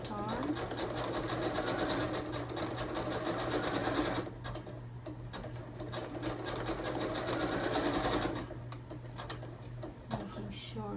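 A sewing machine stitches a cushion cover in a fast, close mechanical whir, running in two long bursts separated by a quieter pause.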